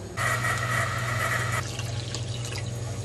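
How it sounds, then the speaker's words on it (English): A cup of cold water poured in while making jello, a steady splashing stream for about a second and a half that then breaks into lighter trickles and drips, close and fairly loud. "You add 1 cup of cold water."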